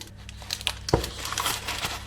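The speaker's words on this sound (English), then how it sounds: "First we need to get it out of the plastic bag." Gluten-free bread dough pulled out of a plastic bag, giving close crinkling and rustling of the plastic with one sharper crackle partway through, alone with no talk.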